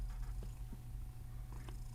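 A cat purrs softly and continuously up close, a low rumbling drone in a quiet room with a few faint incidental taps.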